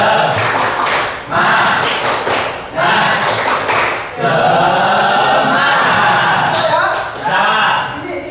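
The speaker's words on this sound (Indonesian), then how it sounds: "Tepuk semangat." A group doing a rhythmic spirit clap, with loud bursts of hand claps and taps in patterned clusters, broken by brief pauses and mixed with voices chanting along close by.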